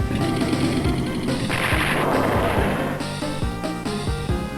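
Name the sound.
rocket units attacking in video game Advance Wars 2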